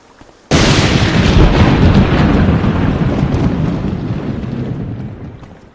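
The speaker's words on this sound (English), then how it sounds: "The rain is coming to a stop, but it just had to get that one last bolt of lightning in there." A lightning bolt's thunder crashes in at once in a rainy Morrowind game scene, a loud, deep rumbling roar that rolls on and slowly fades over several seconds.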